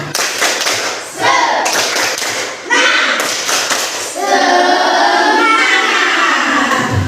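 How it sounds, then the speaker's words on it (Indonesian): Rhythmic group clapping by schoolchildren in a classroom doing a spirit-clap routine, loud and close, in patterned bursts with short pauses, followed by children's voices chanting together. "Baik, tepuk semangat dulu ya, nanti untuk memulai kita diskusi kita hari ini."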